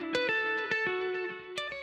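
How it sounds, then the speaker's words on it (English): Distorted electric guitar plays a lead melody, sustained notes with sharp plucked attacks and some effects, heard alone. "Candace added a guitar in this section, which sort of acts as the lead melody"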